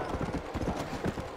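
Undead horses trotting in Red Dead Redemption: Undead Nightmare, a quick run of rhythmic hoof clip-clops, fairly close and moderately loud, in a brief burst.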